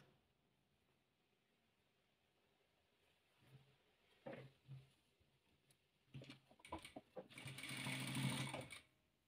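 A sewing machine stitches patchwork pieces in short bursts, the later runs louder and longer with a steady mechanical whir, quiet pauses between them.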